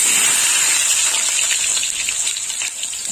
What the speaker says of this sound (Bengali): কাঁকরোলগুলো একটু হালকা লাল করে ভেজে নেবো, সব কাঁকরোলগুলো দিয়ে দেবো একসাথে।